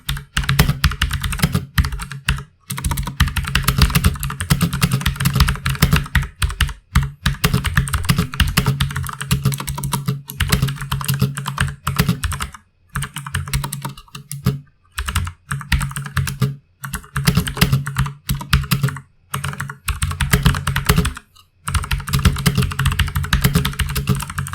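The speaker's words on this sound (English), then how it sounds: "They make that satisfying mechanical keyboard clickety sound while typing." Rapid, crisp clicking of a Redragon Vara K551 mechanical keyboard with clicky blue switches, typed continuously up close with a few brief pauses, no voices.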